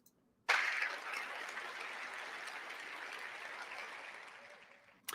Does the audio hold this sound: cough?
no